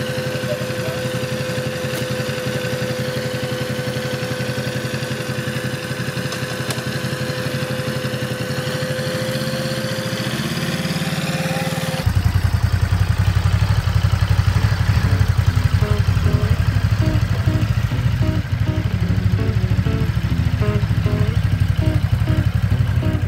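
A Ducati Monster's 111 hp, 82 kW engine, the same block used in the SuperSport 950, runs steadily with a humming drone, then shifts abruptly into a louder, rougher, more clattery engine sound partway through, with no talking.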